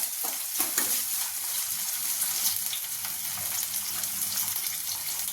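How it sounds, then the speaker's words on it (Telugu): Onions frying in a pan, a steady soft sizzle with faint stirring scrapes throughout, quiet and close. "ఉల్లిపాయలు ఫ్రై చేసుకున్నా."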